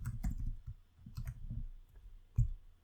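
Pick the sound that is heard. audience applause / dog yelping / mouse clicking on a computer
mouse clicking on a computer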